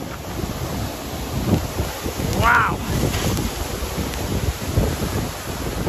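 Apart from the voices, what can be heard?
Machay waterfall roaring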